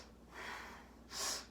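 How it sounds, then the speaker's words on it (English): Two quiet, close breaths during yoga breathing practice, a softer inhale followed by a sharper, airy, powerful exhale, with no voice. "Nice powerful breath."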